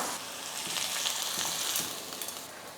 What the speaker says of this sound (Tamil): பாருங்கள் வெங்காயம் வந்து நல்லா வதங்கிடுச்சு